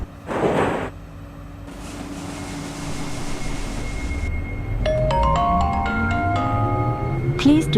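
Train doors close in the OpenBVE simulator, a short sliding thump followed by a rising electric motor whine and chiming tones as the carriage pulls away under a steady hum.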